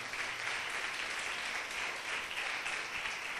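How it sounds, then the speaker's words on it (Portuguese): A church congregation applauds steadily, with dense, continuous clapping held at an even level for the whole stretch and no voices standing out. "Dá um aplauso bem lindo ao Espírito Santo"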